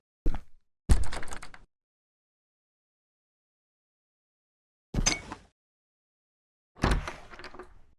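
Door props opening and closing in a retro shooter game template: four short, loud sliding-door thunks separated by silence, two in quick succession early and two later.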